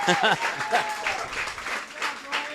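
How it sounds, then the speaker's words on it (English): A crowd at a state AA baseball game between Post 400 Stars and Bismarck Governors applauds a pitcher leaving the mound, with scattered clapping heard at a distance beneath a broadcaster's voice. "nice round of applause there for Ryan Kite"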